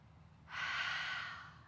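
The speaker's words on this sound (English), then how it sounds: "Take a nice inhale and exhale" A single deep, breathy inhale and exhale during a post-run meditation and stretch session, close and soft, rising quickly and then fading out.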